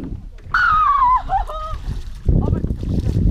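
Water splashing at Lake Usma as someone swims, a sloshing burst near the end after a person speaks close by.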